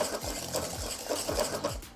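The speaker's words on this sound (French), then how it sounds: "Et je mélange tout doucement. Faut pas hésiter, hein, faut vraiment mélanger." Chocolate pastry cream being whisked steadily in a pan for éclairs, a brisk rhythmic scraping and sloshing with repeated strokes, close up and with no talk.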